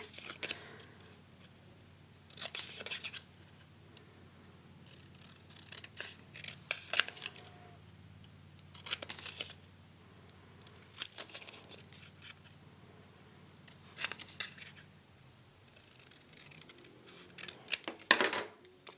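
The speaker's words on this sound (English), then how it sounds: "So I'm going to cut out a yellow label here." Scissors snip through a yellow paper label in several separate bursts of crisp cutting strokes, close and fairly quiet, with soft paper rustling between them and no talking.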